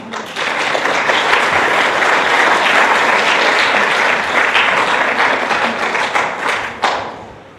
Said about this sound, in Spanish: vamos a recibir con fuerte aplauso